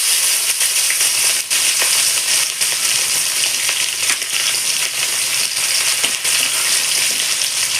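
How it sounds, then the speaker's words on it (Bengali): Capsicum hisses and sizzles steadily in hot oil along with whole garam masala, chillies and bay leaf. The frying is loud and close, broken by occasional clinks and stirring scrapes, and no one talks. "এবার আমি তেলে ক্যাপসিকামগুলো দিয়ে দেবো।"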